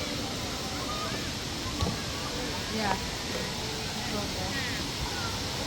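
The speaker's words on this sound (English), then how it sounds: "The big waterfall over there." Steady broadband rush of Bousra Waterfall in Mondulkiri, a continuous roar heard from a distance with people talking briefly over it.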